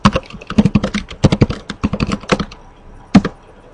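Computer keyboard typed on to enter network switch configuration commands, a close run of crisp clustered keystrokes followed by a pause and one final key press.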